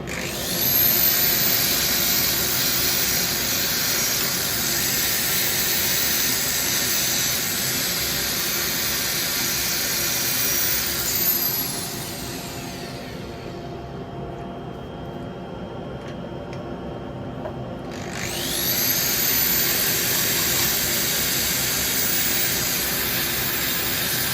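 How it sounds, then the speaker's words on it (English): Sander smoothing a rough woodturning piece, a loud continuous whirring hiss that drops to a lower, quieter hum midway, then rises back to full strength, close by with no talking. "I'm just going to do it with me sander here, like this."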